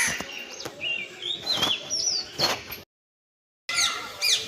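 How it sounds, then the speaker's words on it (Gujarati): Sharp, high sparrow chirps repeat in quick bursts close by, with a brief silent gap before more chirping resumes. "ખરા બપોરે ચકલો બોલું"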